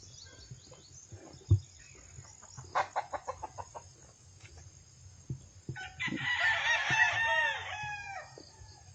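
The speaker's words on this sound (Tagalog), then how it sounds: "Ano yung mga manok." A rooster crows loudly nearby, with chickens clucking in short bursts before it, over a low steady background hum.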